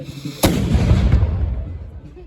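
A single loud cannon blast at a reenactment of the 1793 assault on Arlon, Belgium, booms out sharply, then rumbles and fades away over about two seconds.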